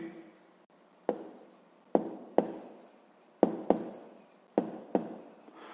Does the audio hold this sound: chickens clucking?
no